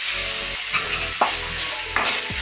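Chopped onion sizzles steadily in a hot pan with ginger and green chili, broadband frying hiss throughout with a few soft stirring scrapes punctuating it, close and fairly loud.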